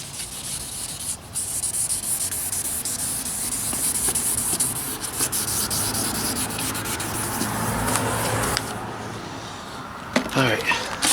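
Steady rubbing and scrubbing of 2500 grit wet sandpaper on a faded, fogged headlight lens, close and continuous, with a voice talking over it.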